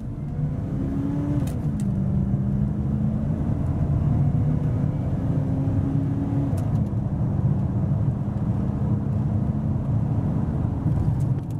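A pickup truck accelerates hard on an open road, its engine droning loudly and steadily from up close with rising and shifting tones as it picks up speed.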